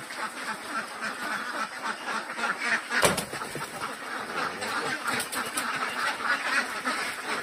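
Ducks at a Philippine duck farm quack continuously in a dense, overlapping chorus at fairly close range, with a sharp louder burst near the middle and steady flock noise throughout.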